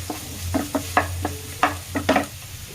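Onion, garlic, ginger and green chili sautéing in a pan for a hotel-style tomato chutney, with a low steady sizzle under a string of sharp spatula scrapes and stirring clacks, about eight strokes, close and distinct.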